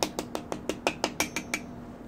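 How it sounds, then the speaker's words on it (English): A dead blow hammer taps a piston down into a Nissan Altima engine block during a rebuild, nine quick evenly spaced light metallic knocks, close and fairly soft, with no talking. "you want to take your hammer, rubber mallet or dead blow hammer, it's got the beads in it, and you just tap around"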